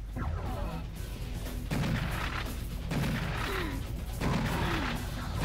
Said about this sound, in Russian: Кто-то стреляет по мне.